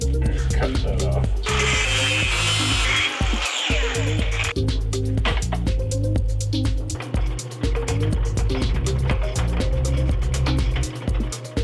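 A metal lathe cuts off a piece of metal for a Ford Mustang project, a loud continuous machining grind with a harsh, brighter cutting burst in the first few seconds and steady motor drone throughout.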